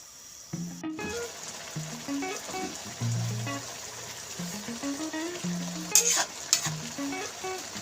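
Bamboo shoots cook in a pot for ginataang labong, giving a soft bubbling, sizzling simmer with occasional stirring clinks and a few sharper knocks near the end, fairly quiet and close.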